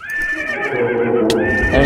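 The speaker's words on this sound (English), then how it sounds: "Come here, horse." In the Minecraft video game, a horse gives a loud, close neigh that wavers at a high pitch for under two seconds, with faint clip-clop steps underneath.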